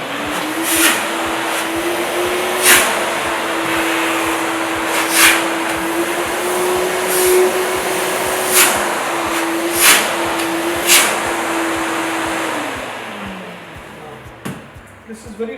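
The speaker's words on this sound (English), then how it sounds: "This is our vacuum cleaner." A light single-motor professional vacuum cleaner running steadily with a loud, close, constant whine that holds for about twelve seconds and then winds down, with a few brief knocks along the way.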